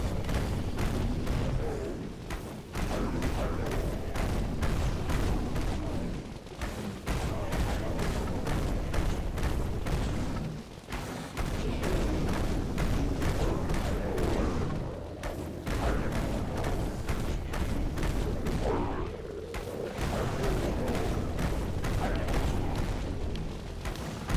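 Heavy weapon fire and explosions from a Wraith Cannon in the zombie game Dead Frontier, a dense, continuous barrage of booms with brief pauses, loud throughout.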